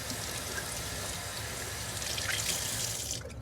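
Water rushes and gurgles through a Bissell carpet cleaner being flushed after heavy use, a continuous loud hissing flow that holds steady before cutting off abruptly near the end.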